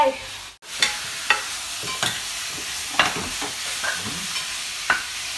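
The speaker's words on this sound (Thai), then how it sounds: "ผัดหน่อไม้ดองนะคะทุกคนผัดหน่อไม้ดองใส่หมู" Pickled bamboo shoots and pork stir-fried in a pan, heard as steady sizzling with sharp, irregular clicks and scrapes of a utensil against the pan, close and fairly loud, with no talking.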